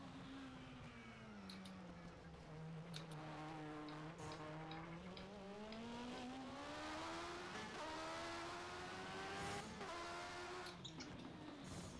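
An F1 car in the rFactor racing game, a 1991 Spain setting, does burnouts, its engine note rising and falling in long revving sweeps over a constant tire squeal, loud and close without pauses.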